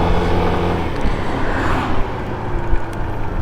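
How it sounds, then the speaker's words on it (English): Road traffic at sunset rumbles steadily, with cars passing close by in a continuous low roar and occasional louder swells of engine and tyre noise, no talking. "Traffic isn't so beautiful"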